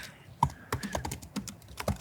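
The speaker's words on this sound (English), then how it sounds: "that was the loudest typing I've ever heard of" Loud, irregular typing on a laptop keyboard, close up, with sharp clattering keystrokes arriving in uneven bursts and no talking over them.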